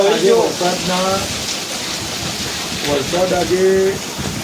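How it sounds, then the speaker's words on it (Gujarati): Heavy first monsoon rain pours steadily in a dense, continuous wash, loud and close throughout, while a person talks over it. "આજે વરસાદ નથી રોકાવાનો"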